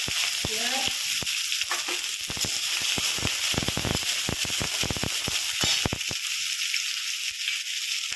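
Hot oil sizzles steadily in a pan as vegetables for veg fried rice go in, with close crackling pops and sharp clicks over a constant hiss.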